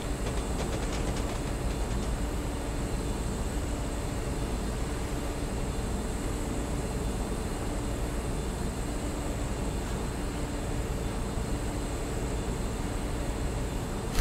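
A passing train in the video game Train Simulator 2021 on the Western Mainlines route between Penzance and Plymouth gives a continuous, loud rumble and hiss that holds steady for the whole stretch with no talking.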